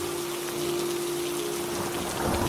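Rain falls steadily on a riverbank in the evening, a close, even patter and hiss that continues throughout over a faint steady hum, with no voices.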